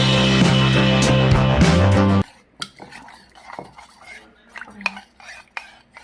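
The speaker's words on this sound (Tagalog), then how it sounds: "we're gonna mix cornstarch into water" Spoon stirring cornstarch into water in a bowl for kare-kare, quick clinking scrapes at first, then softer, sparser taps and clinks after the mixing eases off.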